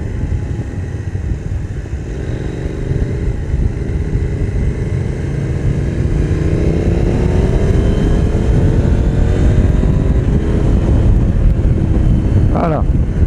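A KTM Duke motorcycle engine drones steadily at around 80 km/h through a curve, its pitch gradually rising and falling under heavy wind buffeting on the microphone, loud and continuous.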